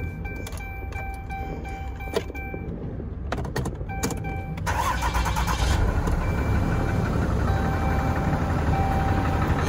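A semi tractor truck at an auction lot in Houston, Texas: warning chimes sound first, then the starter cranks briefly and the diesel engine catches, settling into a loud, steady idle.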